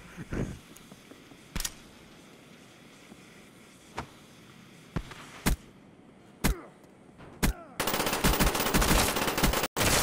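Gunfire in Borderlands, a first-person shooter video game, with sharp single shots spaced through the clip before a dense burst of rapid automatic fire near the end, loud and close.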